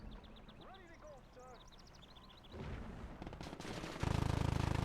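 Automatic gunfire from an MG42 and infantry weapons in the World War II strategy game Gates of Hell: Ostfront, bursts building over bird calls and ambience, ending in a loud sustained low roar.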